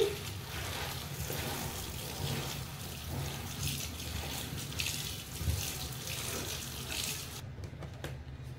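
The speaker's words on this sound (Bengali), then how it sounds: "ফুলকপির পাতাগুলো ভালো করে ধুয়ে নিচ্ছি।" Cauliflower leaves washed by hand under a running kitchen tap, a steady continuous splash of water into the sink with small bursts of rinsing, close and fairly loud, no talking, stopping abruptly near the end.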